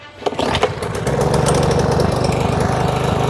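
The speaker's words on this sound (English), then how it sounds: "Can a Motorola Razr replace a lawnmower's razor blades and cut the grass?" Lawn mower fitted with Motorola RAZR phones as blades starts with a sharp pull, then settles into a loud, steady engine rattle and drone, close by.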